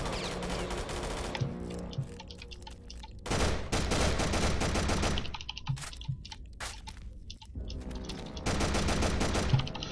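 Automatic assault rifle fire from an STG in the video game Eisenfaust: Legacy, loud bursts of rapid shots starting and stopping across the span, with brief quieter gaps between volleys.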